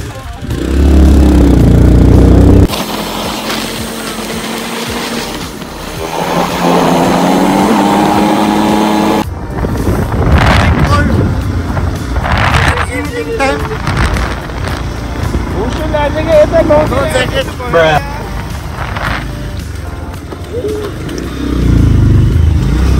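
Motorcycles ride along a rural on-road and off-road route toward a waterfall eco-village and trout farm, their engines droning loud and close with wind buffeting, while riders talk and shout over the noise.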